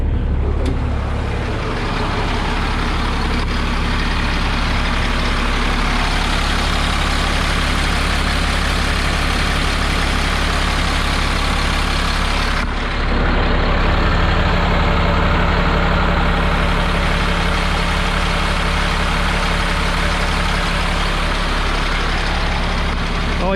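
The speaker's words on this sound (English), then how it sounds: "now I'll get out so you can listen to the motor" A 2005 Sterling tandem-axle side-load 30-yard garbage truck idles steadily with a deep, loud diesel rumble throughout, the engine note holding even with a brief shift partway through.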